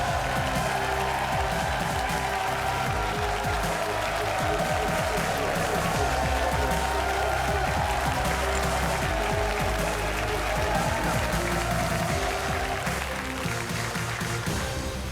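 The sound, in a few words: studio audience applauding on GamesMaster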